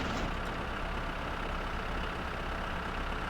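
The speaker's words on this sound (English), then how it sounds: "Might be the shit truck I can hear." A sewage truck's engine in the video game My Summer Car drones as a steady, low idling rumble, constant and fairly loud throughout with no pauses.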